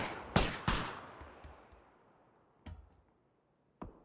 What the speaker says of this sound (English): all these gunshots are kind of just hitting thin air right now